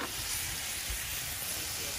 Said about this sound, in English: Watch that bacon sizzle.